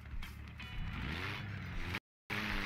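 Jeep engine revving in the Turbo Dismount video game, a steady loud motor drone running continuously with a brief dropout near the end.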